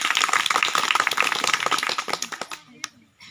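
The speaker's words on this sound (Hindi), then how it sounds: "तो सबसे पहले आप लोग हमारे राष्ट्रीय अध्यक्ष श्री दुलाल मुखर्जी के सम्मान में एक बार जोरदार तालियों से स्वागत करेंगे।" Audience at a women's empowerment meeting in Prayagraj, Uttar Pradesh, clapping for a national president, a brisk patter of many hands that thins into a few scattered claps and fades out near the end.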